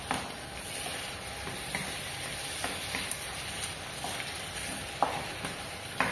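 A home-style dish sautés in a pan with a steady, close crackling sizzle throughout, broken by a few small clicks and scrapes from stirring.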